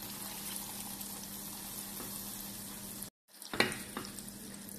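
Butter melting in a pan for homemade caramel, a faint, steady low sizzle with light stirring, broken by a brief silence and then a few soft scrapes of the utensil.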